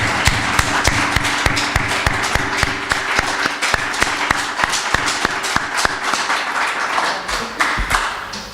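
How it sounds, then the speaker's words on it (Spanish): An audience at an academic lecture claps, each sharp clap standing out in a brisk, steady rhythm from a modest crowd. A faint low hum runs underneath, and the clapping thins and tapers off near the end. "Eu penso que merece outra aplauso."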